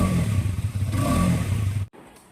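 The engine of a Hero Karizma XMR 210 motorcycle runs with a low, throbbing exhaust note that swells slightly, then cuts off abruptly near the end.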